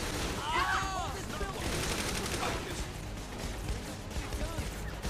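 Gunfire in Saints Row the Third comes as rapid bursts of shots and clattering impacts, fairly close, with someone talking over the shooting.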